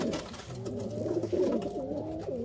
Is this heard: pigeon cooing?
yes